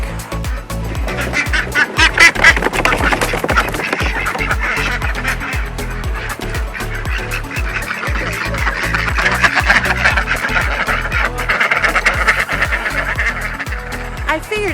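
Ducks being released let loose a dense, continuous chorus of loud nasal quacks, many birds calling at once in an overlapping rhythmic clamor close to the listener.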